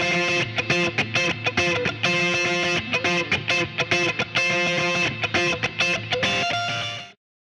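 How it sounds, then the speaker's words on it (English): A Les Paul electric guitar through a Boss GE7 equalizer pedal plays a bright, clean-toned chordal riff with short rhythmic stabs and brief gaps, ending on a held chord that cuts off. "So I'm going to show you first the Les Paul with the GE7."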